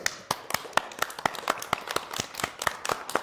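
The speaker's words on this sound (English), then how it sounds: "Let's give ourselves a round of applause" A small group of children applauding themselves, a sparse, rhythmic run of distinct hand claps close by, roughly evenly spaced and alone without talk.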